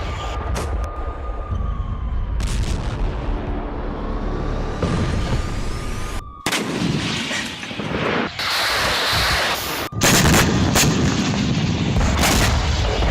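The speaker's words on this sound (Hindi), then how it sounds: "क्रेमेना सवातोवा में टैंक पर स्ट्राइक के बाद जोरदार धमाका हुआ" Heavy blasts and booming impacts ring out amid rumbling battle noise in Ukraine, with a loud explosion crashing in toward the end after a strike on a tank.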